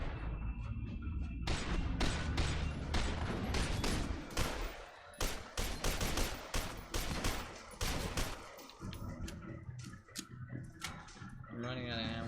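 Gunfire in the shooter F.E.A.R. 2: Project Origin comes as a rapid series of sharp shots, heavy at first and then in broken bursts, with speech and other game sounds mixed in between.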